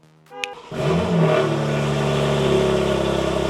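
A freshly rebuilt BMW G81 M3 Touring engine cranks briefly, catches and fires up, flaring loud before settling into a steady, rumbling idle close by.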